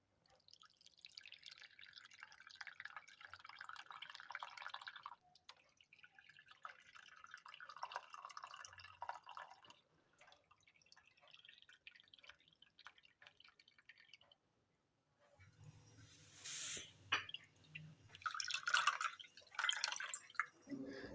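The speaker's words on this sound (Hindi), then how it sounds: "अब यखनी को सस्टेनर की मदद से ड्रेन आउट कर लेंगे।" Beef yakhni broth strains through a kitchen strainer, with a close, steady trickle and drip of liquid, a short pause, then heavier splashy pouring toward the end.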